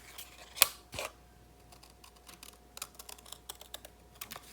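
Scissors trim paper at close range during a card-making craft project, giving a few sharp snips followed by soft, quick clicking and rustling.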